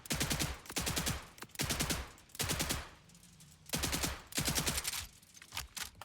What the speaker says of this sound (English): Shooting guys in the courtyard is funny.